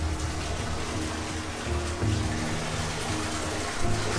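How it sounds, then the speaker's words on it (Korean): Water from a small village spring near Bethlehem flows and trickles steadily with a continuous splashing wash, close by, with no voices. "네, 물소리 들리시죠?"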